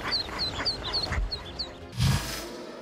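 Ducklings being rescued one by one from a sewer, a rapid series of high, thin quacks and peeps followed by a short louder burst of noise.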